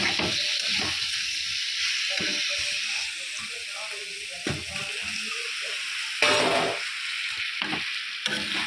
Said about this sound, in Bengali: ফুলকপিটা দিয়ে আরেকটু ভেজে নেব।